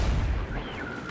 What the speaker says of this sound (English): I threw a grenade, whatever.